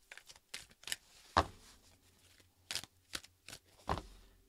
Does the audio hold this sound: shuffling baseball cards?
yes